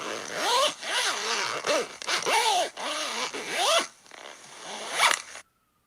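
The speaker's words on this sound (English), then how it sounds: "zipping up a tent" A tent zipper pulled in a series of quick rasping strokes, about six close, loud zips in an uneven rhythm, ending in near silence.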